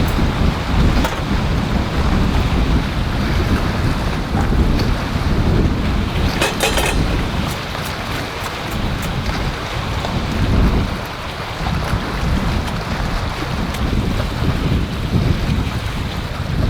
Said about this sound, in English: now that this wind has picked up